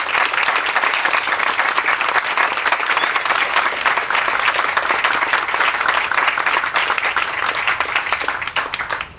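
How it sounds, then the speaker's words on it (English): An audience at a 1999 Manassas National Battlefield Park museum dedication applauds Park Service representatives, a loud, dense burst of many hands clapping that holds steady for several seconds and begins to thin at the end. "give those representatives of the Park Service who are here today an outstanding round of applause"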